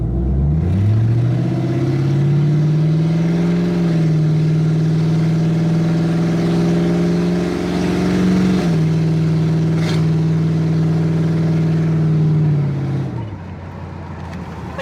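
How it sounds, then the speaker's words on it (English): A Ford Crown Victoria with a Marty tune accelerates medium to hard, its engine note climbing steadily through a shift around eight seconds, loud and close, before easing off near the end. "Test number 2, we're gonna do a medium to hard acceleration."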